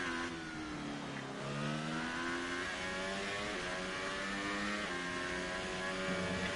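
In F1 2018, an F1 car engine revs high at a Formula 4 league race at the Australian Grand Prix, a continuous whining drone with rising and shifting pitch, heard alone with no voices.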